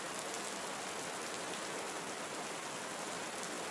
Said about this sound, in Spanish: Enfoca tu atención en el sonido de la lluvia